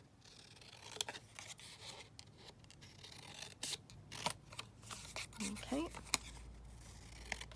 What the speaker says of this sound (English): So just cut this down slightly.